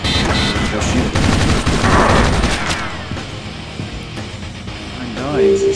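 Video game gunfire: dense bursts of rapid shots for the first three seconds, then sparser pops and electronic effects, with a voice talking over the game.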